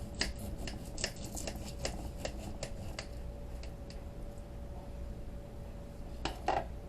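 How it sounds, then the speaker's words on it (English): A serrated knife saws through vegetables, cutting them into small squares for a spicy veggie sausage lasagna: quiet, rhythmic scraping strokes with light clicks against the board over a steady low kitchen hum. "So we're gonna cut these guys into little squares here. See, it's a serrated knife."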